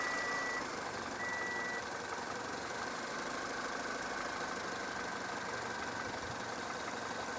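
A Toyota Corolla with a lean-running fault idles after starting, giving a steady, faint engine hum with a brief high tone near the start and no talking.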